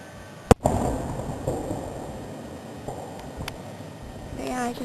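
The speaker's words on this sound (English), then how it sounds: "Here you go, world, have some fireworks." Fireworks go off outdoors, one sharp bang standing out near the start, followed by softer pops and crackles and a rumbling wash of distant bursts.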